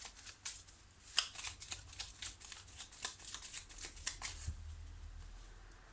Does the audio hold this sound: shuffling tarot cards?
yes